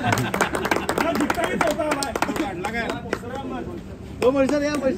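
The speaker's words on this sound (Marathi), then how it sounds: "टाळ्या वाजवा की रे, चौथा नंबर आला." At a volleyball tournament prize ceremony, a group claps in quick, uneven bursts for the fourth-place team while people talk and call out over the clapping.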